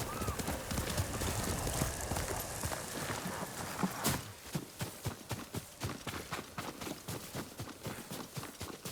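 Rhythmic horse hooves clip-clop steadily, loud and close, over a dense wash of ambient game noise in Ghost of Tsushima on PS5 that thins out midway.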